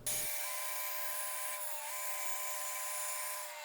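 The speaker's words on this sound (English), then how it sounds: "With a couple relief cuts, we can bandsaw that out." A bandsaw cuts out a wooden bench part with a couple of relief cuts, giving a steady, continuous high whine and rasp that holds at an even level from start to finish.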